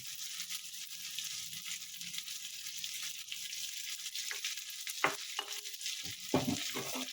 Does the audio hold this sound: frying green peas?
yes